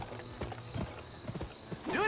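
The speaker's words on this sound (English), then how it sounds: "Press the sprint button to spur your horse." Horse hooves clip-clop at a gallop in the Western video game GUN, several close, rhythmic hoofbeats with a brief whinny near the end, mixed with game ambience.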